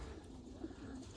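Racing pigeons coo softly and low in a loft before being basketed for a 50-mile toss, with faint, brief calls under a steady background hiss.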